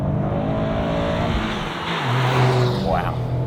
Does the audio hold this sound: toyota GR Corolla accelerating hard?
yes